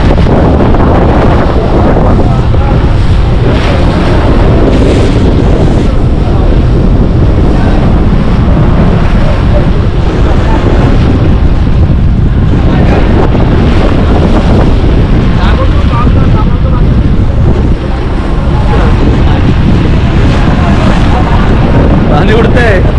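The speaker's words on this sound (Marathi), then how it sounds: "पाणी उडतंय" Seawater sprays onto a ferry boat as strong wind roars across the microphone, a loud continuous rush with splashing surges and voices mixed in throughout.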